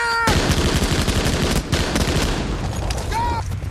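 Dense, continuous gunfire from MG-42 machine guns and rifles in a Second World War beach battle scene from Saving Private Ryan, loud and relentless throughout, with shouted voices and brief whistling tones breaking through the din.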